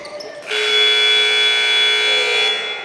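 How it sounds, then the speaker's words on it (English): A loud, sustained electronic buzzer blares for about two seconds, ending a period at a high school basketball game in a gym, with crowd noise beneath it. "At the buzzer, Julian."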